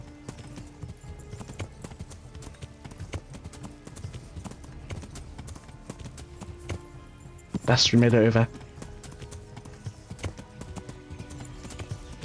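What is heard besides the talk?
horse hooves galloping, from a video game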